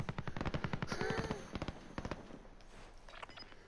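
Rapid bursts of automatic gunfire in the battle royale video game Warzone, loud and close at first, then scattered shots that thin out, with a voice briefly heard over the shooting.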